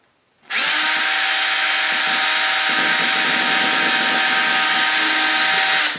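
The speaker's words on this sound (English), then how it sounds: "I've got to drill these holes in just the right places." A power drill drilling holes in wood starts abruptly and whines steadily at high speed, loud and close, running continuously before easing off at the end.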